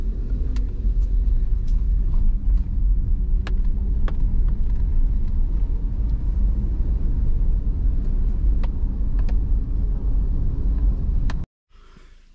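A car climbs a mountain road toward an old bandit stronghold in the hills of Sichuan, its engine a steady low rumble close and continuous, with a few faint ticks, cutting off abruptly near the end.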